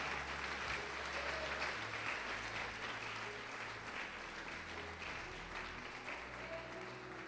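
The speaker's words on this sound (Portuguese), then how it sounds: "Você pode aplaudir o Senhor e glorificar a Deus." A church congregation applauds during a worship service, a dense, steady wash of clapping that holds at an even level for the whole stretch.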